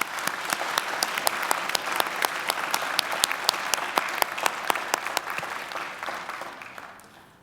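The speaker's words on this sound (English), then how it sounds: "Ladies and gentlemen, please give them a round of applause." A large audience applauds at a university graduation ceremony in a hall, with dense, steady clapping for several seconds that then fades out toward the end.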